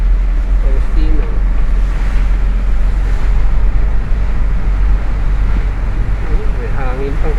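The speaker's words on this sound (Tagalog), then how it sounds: "May hangin pang kasama." Heavy rain driven by strong wind in Guimba, a steady loud roaring wash heard from inside a moving vehicle, with faint voices briefly audible under the noise.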